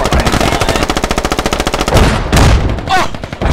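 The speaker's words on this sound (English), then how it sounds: "I shot that guy right in the face right before an RPG hit his body." Automatic rifle fire in the video game Squad: a loud, rapid burst of evenly spaced shots close up, then a few heavier blasts and a brief shout.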